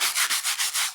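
Hand sanding on a 1953 bus dashboard with a 36 grit sanding block: five quick, rhythmic rasping strokes, close and loud, with no talking.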